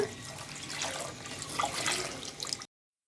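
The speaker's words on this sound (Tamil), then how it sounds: "நான் 2 டம்ளர் அளவுக்கு தண்ணி ஊற்றிக்கிறேங்க" Water poured into a pot of sweet potatoes, a steady close splashing stream running for under three seconds before cutting off abruptly.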